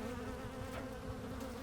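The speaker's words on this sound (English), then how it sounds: "The buzz of the wasps intensified as the light hit them" Wasps buzz in a close, steady, droning hum, a dense insect whine that holds without pause.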